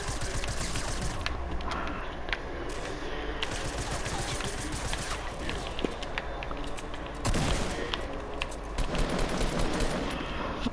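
Video game gunfire crackles continuously as dense, rapid bursts of shots, loud and close, with heavier volleys flaring up partway through.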